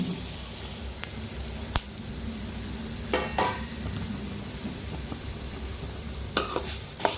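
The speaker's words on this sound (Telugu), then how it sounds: "ఇప్పుడు మనం తీసుకున్న ఈ స్పైసెస్ అన్నీ ఫస్ట్ దీంట్లో వేసుకొని వేయించుకుందామండి" Coriander seeds, cumin, mustard seeds and fenugreek frying in hot oil for Andhra-style gongura pachadi, a soft continuous sizzle near the pan with occasional sharp pops and a few scraping stirs.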